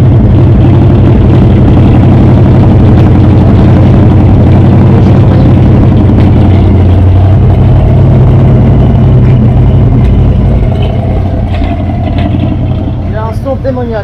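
A 1975 Ford F-100 pickup's 351 V8 idles loudly with a heavy, lumpy low rumble, picked up from outside the truck, while a voice talks over it now and then.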